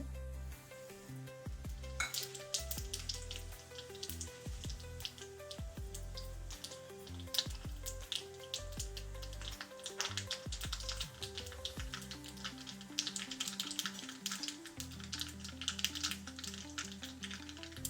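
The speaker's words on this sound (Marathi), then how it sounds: "आता मी त्याला फोडणी करते." Whole spices, curry leaves, asafoetida and a dried red chilli crackle and sizzle in hot tempering oil for dal with raw mango, sharp pops scattered over a steady fry with music playing throughout.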